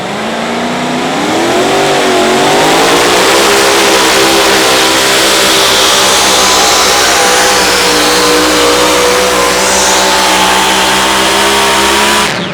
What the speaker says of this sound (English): out of Kearney, Nebraska, Dave Fleming on the 4955 tractor.